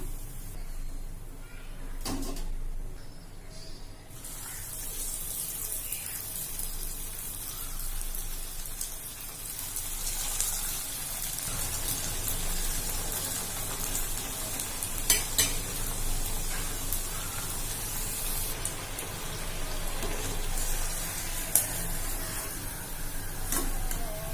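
Paneer fingers deep-fry in hot oil with a steady, dense sizzle and crackle like rain, close and continuous, with occasional sharper pops and brief clinks of a utensil.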